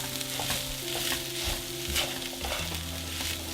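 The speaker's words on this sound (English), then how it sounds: "I'm just gonna go ahead and cook that in, mix it in." Chopped peppers for Filipino sisig fry with a dense, continuous sizzle while being stirred and tossed in the pan, close and steady with no talking.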